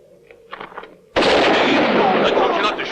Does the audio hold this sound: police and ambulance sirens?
no